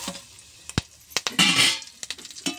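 Curry leaves, mustard seeds, cumin and a dried red chili frying in hot oil give short sharp pops and crackles with a brief burst of hissing sizzle, close and fairly loud.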